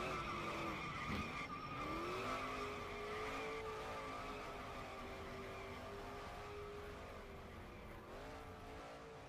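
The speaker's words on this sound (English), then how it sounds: "As we see Travis been burning some tires out here." A street stock race car at Bristol burns its tires in a long, steady screech with engine drone underneath. The squeal wavers in pitch and slowly fades as it carries on.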